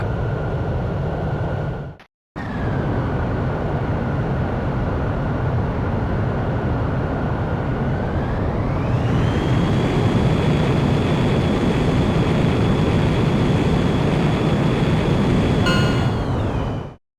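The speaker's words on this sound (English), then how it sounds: "Griffith 1, you are cleared for takeoff." Jet aircraft engine from the video game Ace Combat X roars continuously at takeoff, a loud sustained whine that rises in pitch partway through as thrust builds, briefly cut near the start.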